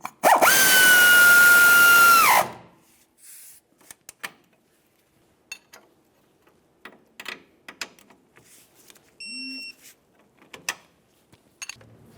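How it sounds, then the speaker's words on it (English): A power tool whirs loudly for about two seconds while running down the pinch bolt mounting nut on the left upper control arm of a 2002-2009 Chevrolet Trailblazer, followed by scattered clicks and metal clinks. "Start on the mounting nut there. Now let's snug this up and torque it to 30 foot-pounds."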